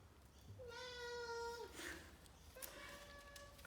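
A cat gives two drawn-out meows close by, the first longer and rising, the second shorter, over a faint room background.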